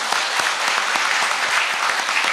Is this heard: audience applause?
yes